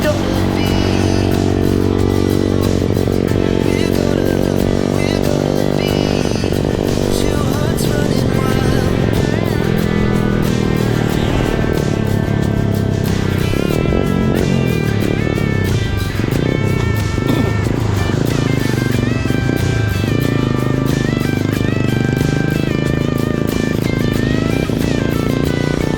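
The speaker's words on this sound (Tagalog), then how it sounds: "Balyado yung motor ni Kagatyo." A motorcycle engine struggles and sputters after heavy rain, its uneven revving continuous and loud throughout, with faint voices mixed in.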